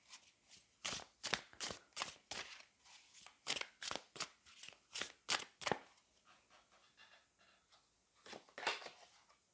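Tarot cards are shuffled and drawn, giving quiet, close, rhythmic papery flicks and slaps in quick bursts, with a brief pause before a few final snaps.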